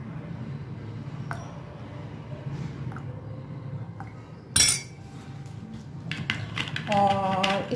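A tablespoon clinks against a glass container while apple cider vinegar is measured out, with a few light metallic taps and a brighter clatter near the middle, faint and close over a quiet room hum.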